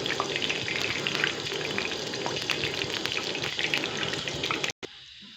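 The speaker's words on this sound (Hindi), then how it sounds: "फ़िश को पूरी तरह धो लीजिएगा।" Pieces of marinated fish rinsed under a running kitchen tap, a steady, close splashing rush of water that carries on evenly for several seconds before cutting off abruptly near the end.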